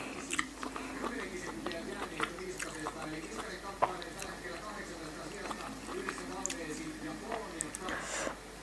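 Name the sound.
chewing crunchy Vietnamese pork sausage (moo yor)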